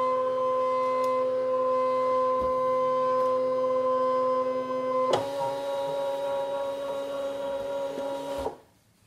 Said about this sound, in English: I'm going to say okay and do a background scan and start the machine going